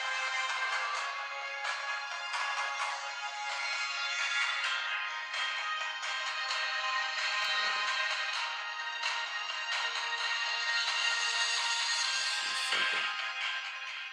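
A ringtone melody plays at maximum volume from a NUU Mobile R1 rugged waterproof smartphone, loud, continuous and bright, with repeating tonal notes filling the whole stretch and no talking.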